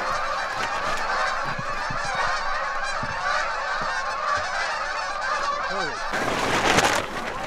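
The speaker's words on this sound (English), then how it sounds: "a gaggle of geese have set up right beside us" A gaggle of geese honks nonstop right beside a riverside camp, a dense, loud chorus of overlapping calls that swells into a louder burst near the end.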